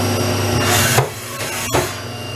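A Haas VF-4 vertical machining center spindle running at 4,000 RPM, a steady close whine and hum with a couple of brief transient swells.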